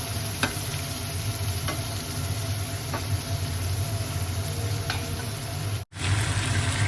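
Chopped onions fry in a pan with a steady, even sizzle, a few faint scrapes of stirring above it and a brief dropout near the end.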